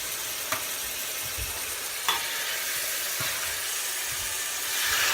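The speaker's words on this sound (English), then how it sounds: "I like to start my chicken off browning bone side down." Chicken pieces browning bone side down in a hot pan for a fricassee, giving a steady close sizzle and crackle of frying, with a few soft clicks along the way and no voices.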